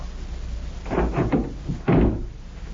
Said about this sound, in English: I'm locking your door, and I've got the key, Candy, so just sit down and relax.